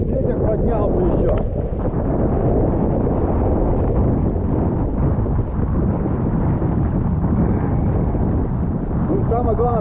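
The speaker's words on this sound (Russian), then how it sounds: "Ветер поднялся еще!" Strong, cold winter wind on a beach at Anapa roars steadily and buffets the microphone for the whole stretch, with muffled voices partly buried beneath the gusts.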